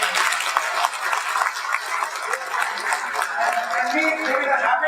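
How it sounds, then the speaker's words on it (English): Audience applause at a World Trade Expo 2017 talk, a steady wash of clapping that stays fairly loud and even for the whole stretch. "So can we give her a big round of applause?"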